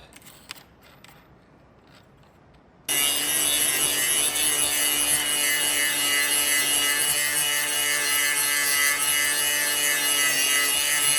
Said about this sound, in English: Can't weld painted surfaces very well, so we gotta grind it off to clean it up.